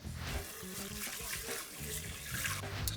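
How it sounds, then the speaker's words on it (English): Rice being rinsed in a pot of water, with close swishing and sloshing that comes and goes in short rhythmic bursts and light trickles between them. "So you fill this up with water and then you rinse it."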